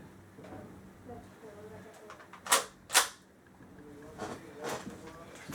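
A Springfield Armory M1 Carbine CO2 BB gun fires two sharp, close pops about half a second apart, with softer handling clicks and a person talking around them.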